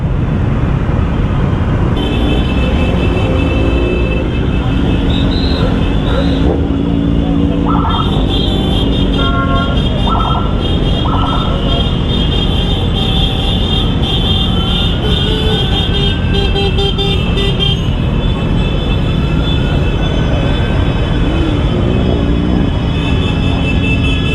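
A big BMW motorcycle rides past on an open road with a throaty, car-like drone, joined by a horn toot and steady traffic noise, loud and continuous throughout.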